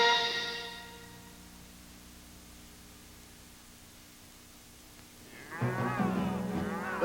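Cattle moo in a 1984 television commercial set in cattle country: one long, loud low bellow opens, fades into a quiet noisy stretch, then another drawn-out moo rises near the end.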